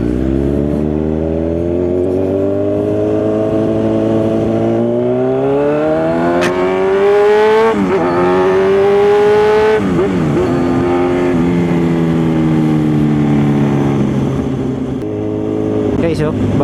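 A Kawasaki Z1000R motorcycle engine revs and pulls away for a ride on the San Juanico Bridge, its loud whining tone climbing through gears with steady acceleration close by.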